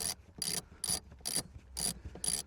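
Hand ratchet loosening seat bolts in a crash-damaged Mini Cooper S, a close clicking ratchet in six quick bursts with short pauses between strokes, alone without speech.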